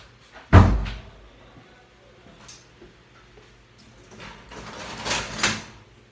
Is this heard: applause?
no